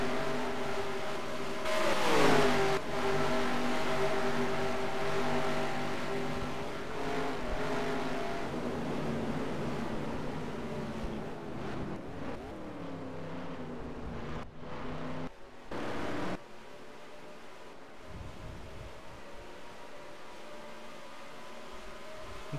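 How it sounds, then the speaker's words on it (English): Race car engines roar close by at high revs during a road course race at Road America, shifting pitch as they accelerate and pass, then fade to a distant drone. "the audio of the cars on still, just allow you to listen to them and listen to their great engines go"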